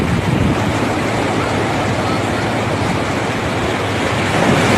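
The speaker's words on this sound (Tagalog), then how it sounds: "Lakas ng hampas ng mga alon." Strong ocean surf pounds a shore where people are surfing, a loud, continuous roar of crashing water mixed with heavy wind buffeting the microphone, with faint voices underneath.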